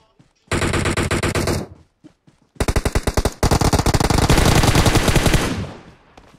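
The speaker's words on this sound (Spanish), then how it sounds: "Está cayendo un tiro." Rapid automatic gunfire in PUBG Mobile on the Livik map: a loud sustained burst, a short pause, then several more close, sharp, rattling volleys, with no voices over them.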